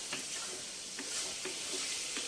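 Prawns and onions fry in a pan for a Telugu prawn and greens curry, an even close sizzle with a few light scraping stirs at regular intervals, no talking.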